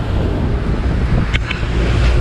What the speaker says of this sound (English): this here is getting crazy windy